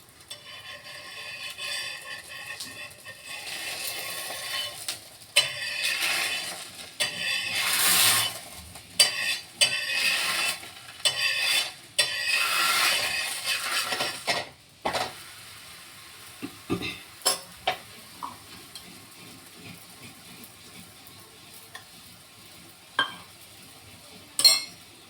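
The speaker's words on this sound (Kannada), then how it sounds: "ಸ್ವಲ್ಪ ಮೇಲೆ ಎಣ್ಣೆ ಹಾಕ್ಕೊಂಡು ಈಗ ಬೇಯಿಸ್ಕೋಬೇಕಿದನ್ನು" Banana holige cooking in oil on a pan, with soft sizzling and stirring scrapes that are fuller early on and then thin into scattered clinks and taps of a utensil against the pan.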